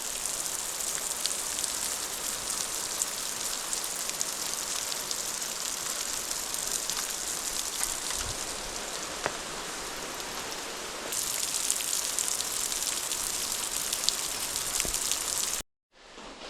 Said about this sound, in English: at the same moment it's raining, the sun is shining.